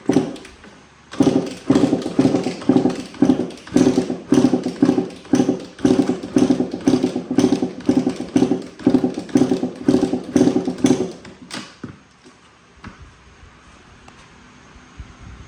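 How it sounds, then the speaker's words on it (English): Repeated kick-starting of a Kawasaki KX 85 motocross bike without throttle after a top-end rebuild, a steady rhythm of about twenty sharp mechanical kicks close up, each with a brief turning-over rasp, stopping abruptly into near silence. "Kick it like you're trying to start the thing."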